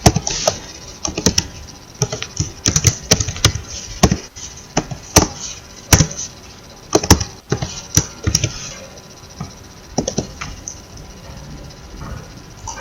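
Keys clatter on a computer keyboard while someone types an HTML table tag into Notepad++, with irregular bursts of close, crisp keystrokes and brief pauses between words. No one speaks.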